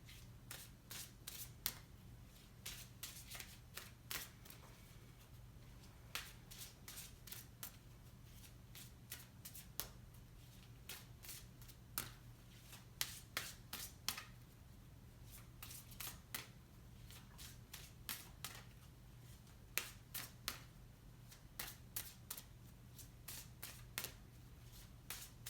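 Oracle cards being shuffled by hand, quiet rapid riffling and snapping bursts repeated in irregular clusters over a low steady hum, close and faint, no talking.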